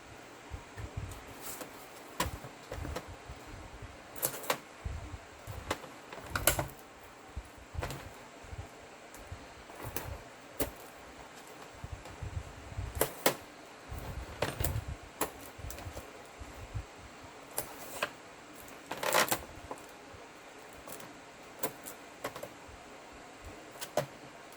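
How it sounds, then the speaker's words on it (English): Tape is pulled and pressed onto a photo album, giving scattered quiet crackles, rips and rustles in irregular bursts against a faint, near-silent background. "Let's put some more tape on."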